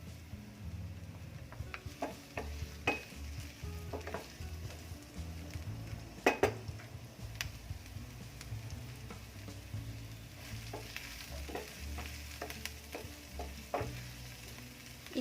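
Garlic and onion frying in a pan for adobong sitaw, a faint, quiet sizzle with scattered clicks and clinks of a utensil against the pan and a low background rumble.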